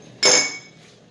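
Rusty chrome wheel nuts dropped into an ordinary glass jar, a single sharp metallic clink and brief rattle close by, fading quickly to quiet.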